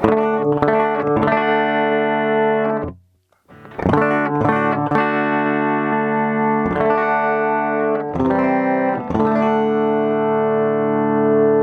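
Electric guitar played through a Boss DD-7 delay pedal in 200 ms mode, shortest time, feedback off, giving one short repeat per note; loud sustained chords and single notes ring out with a brief silent gap early on.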